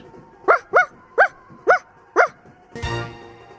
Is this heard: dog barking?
yes